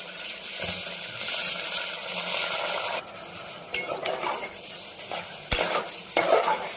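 Two bowls of washed rice fry in ghee or oil with a close, steady sizzle, a spoon scraping and clinking against the pan as it is stirred.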